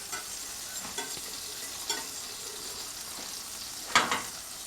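Butter melting in a pan over low heat, giving a soft, steady sizzle close by, with a few light scraping stirs and no speech.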